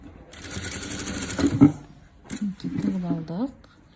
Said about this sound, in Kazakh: және бір шетін тағы да тігіп аламыз